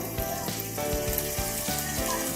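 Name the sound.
capsicum frying in oil for pav bhaji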